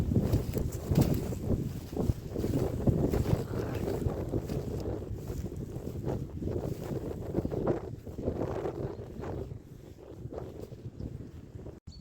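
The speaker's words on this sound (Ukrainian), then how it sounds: "Як ліс шумить." Wind roars and gusts through forest trees on a hillside in a continuous rustling wash, with irregular surges and buffeting, no voices.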